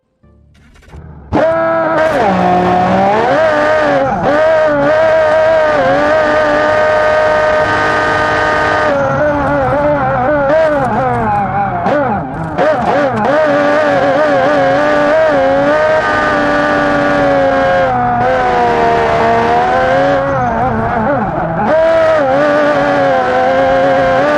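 A tuned van races laps in the BeamNG.drive video game, its engine droning loud and continuous with a strained, high-revving tone that climbs and dips through shifts and corners for over twenty seconds.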